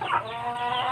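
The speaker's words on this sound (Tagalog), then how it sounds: "Nagpakain ako ng manok. Ayan, oh, sobrang dami" Several chickens cluck and squawk close by in a busy, overlapping flock chatter.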